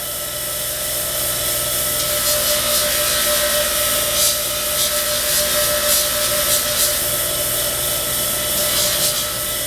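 Steel hammer head rolled and rubbed against an abrasive to take out scratches during a hammer restoration, giving a steady, continuous gritty scraping with faint shifts in texture and no talking.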